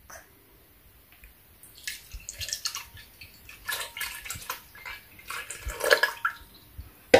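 Condensed milk being poured into a gelatin mixture for a milky jello dessert, heard as intermittent wet splashes and drips that grow busier toward the end, close by with no talking.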